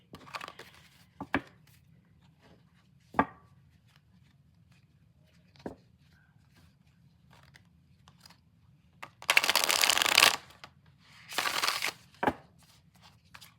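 Scattered sharp card taps and flicks, then two dense bursts of riffling cards near the end, close and fairly loud, with no talking.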